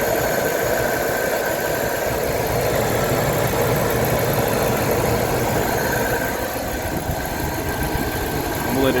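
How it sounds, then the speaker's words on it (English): A 1997 Dodge B3500 van's engine idles continuously at a steady, fairly loud rumble, and a voice is faintly present at times. "Let it sit there and idle for a minute."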